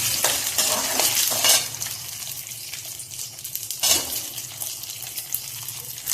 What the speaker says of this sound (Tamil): இந்த குழக்கட்டை பூராத்தையும் போட்டு நல்லா வதக்கி எடுத்துட்டேன்